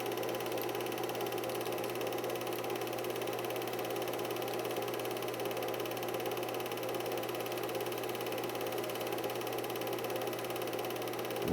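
A Honda three-wheeler's small engine idles steadily at close range, a continuous buzzing drone with a low rumble that holds throughout and swells slightly at the very end.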